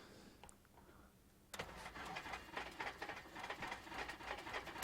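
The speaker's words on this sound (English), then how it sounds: "All right, auto start. There we go. Engine started." A Cessna 172 engine in a flight simulator cranks and catches after a quiet stretch, then settles into a steady, moderately loud rumbling idle.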